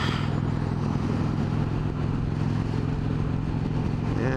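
An Indian Springfield Dark Horse motorcycle cruising in sixth gear, a steady low engine drone mixed with wind rush, loud and continuous with no talk.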